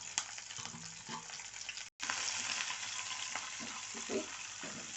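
Cumin seeds, garlic and onion sizzle and crackle steadily in hot oil in a pan for a Telugu-style broad bean stir-fry tempering, with a brief cut near the two-second mark and occasional stirring scrapes.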